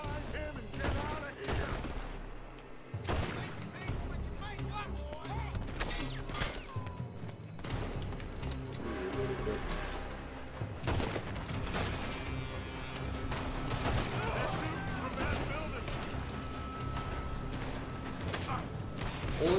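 Pistol shots in Red Dead Redemption 2, sharp individual cracks spaced irregularly among game sounds and bursts of other gunfire, with someone talking over much of it.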